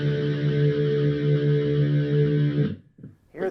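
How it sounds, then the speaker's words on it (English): Heavily distorted high-gain electric guitar held as a sustained chord through a flanger on a Yamaha THR10ii or Positive Grid Spark desktop amp, loud and swirling for nearly three seconds before cutting off into short fading strums. "If you turn this flanger up,"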